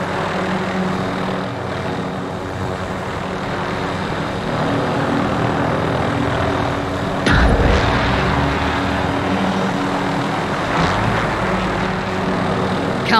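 Helicopter rotor and engine drone from Call of Duty Warzone (Modern Warfare), a steady loud whir holding through the whole stretch with a brief thump partway, alone without talk.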